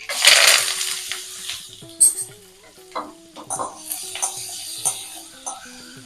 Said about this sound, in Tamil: எண்ணெயில் ஒரு பிரட்டிப்போம்.